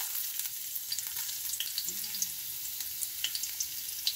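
Ginger frying in hot olive oil in a pan, a moderate continuous sizzle with scattered crackling pops, steady throughout with no voices.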